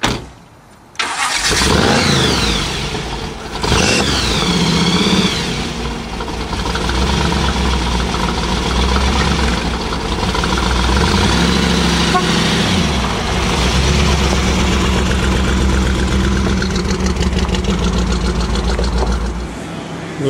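A race car engine starts with a sharp catch, then revs in a few rising bursts before settling into a steady, loud rumbling idle that holds for the rest of the clip.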